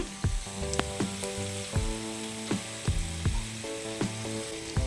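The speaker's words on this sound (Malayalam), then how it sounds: "അങ്ങനെ 2 പ്രാവശ്യമായിട്ട് ഞാനിത് വറുത്തെടുക്കുകയാണ്" Ivy gourd (kovakka) pieces frying in hot oil, a steady close sizzle broken by regular scraping strokes of a ladle against the pan, with no voices.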